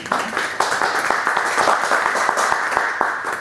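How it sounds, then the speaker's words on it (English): Audience applause at a community educational event, steady clapping from a sizeable crowd sustained throughout, fairly close and moderately loud with no talk over it. "Please give everybody a round of applause."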